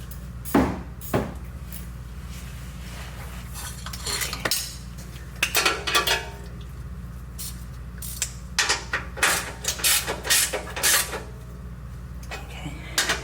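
A part is tightened by hand during an oil change on a 2014-2024 Toyota 4Runner, with a series of close metallic clicks and clinks over a steady low hum.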